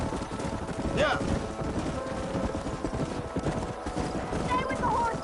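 Steady clip-clopping of many horse hooves in the video game Red Dead Redemption, with a couple of whinnies rising above the rumble and a voice speaking over it.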